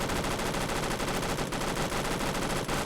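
Sustained, loud, rapid machine gun fire in Roblox Phantom Forces, a continuous stream of closely spaced shots with no pauses.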